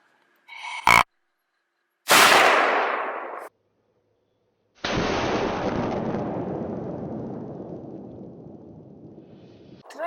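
Gunshot at a whitetail buck on a Saskatchewan hunt near a tree stand: a sharp crack, then a loud blast with a ringing decay, and later another long rumbling report that slowly fades, with silence between.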